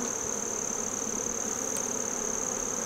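Honey bees buzz at hive colonies in a dense, continuous drone, close and steady throughout with no voices.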